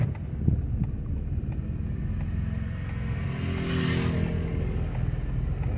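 A car engine strains and revs hard as it pulls away up a steep hill, a steady loud drone with wind buffeting the microphone and a brief hiss midway.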